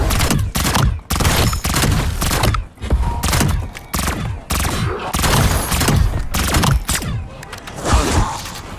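Loud, fast weapon gunfire from a video game, with dense repeated shots and thuds of reloading filling the scene without pause.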